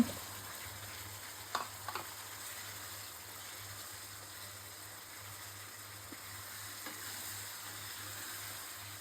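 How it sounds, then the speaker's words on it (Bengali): Rohu fish heads frying in a spice masala give a soft, continuous sizzle and crackle, with a few brief clinks of stirring near the start. "আমার মশলাটা কষানো হয়ে গেছে এখন দিয়ে দেবো মাথাগুলো"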